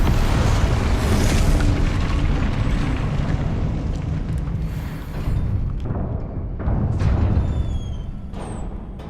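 A Confringo fire spell exploding in the Hogwarts Legacy game, a loud, rumbling blast that starts big and slowly decays, with a few creaks and crackles trailing off.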